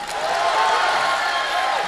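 Audience applause fills a crosstalk comedy show from the Deyun She troupe, a steady, dense wash of clapping that holds at an even level for the whole stretch.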